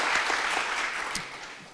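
An audience at a panel discussion on home insurance claps steadily and fairly loudly throughout, a dense continuous patter with no talk over it.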